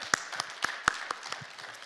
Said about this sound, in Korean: 우리 하나님 앞에 영광의 박수 올려드립시다